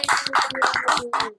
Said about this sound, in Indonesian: Mana tepuk tangan dong?